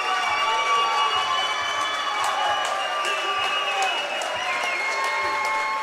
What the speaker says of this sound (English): There's their crowd, and bench is getting fired up right now.